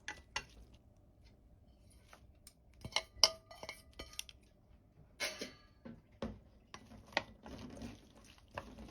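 Sliced king oyster mushrooms and green and red chili strips are tossed in a bowl with utensils, giving intermittent clinks, scrapes and soft wet shuffles, close and fairly quiet, in uneven bursts.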